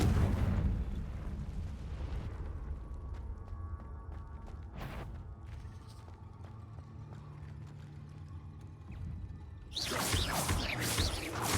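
Confringo spell blasts in Hogwarts Legacy, one sharp burst early, a brief crack midway and a loud crackling explosion near the end, separated by a low rumbling, droning stretch.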